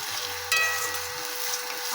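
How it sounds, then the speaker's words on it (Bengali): Halved tomatoes go into a hot pan of frying oil for vegetarian aloo dum; a burst of sizzling rises sharply as they land, then settles into a steady, close fry. "মা দিয়ে দিল"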